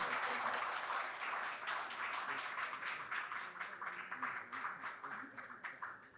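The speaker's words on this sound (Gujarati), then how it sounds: "એકવાર જોરદાર તાળીઓથી આ ક્ષણોને ફરી વધાવીએ" Audience applause at an award ceremony, sustained rhythmic clapping from a crowd that sounds somewhat distant and holds steady before thinning slightly near the end.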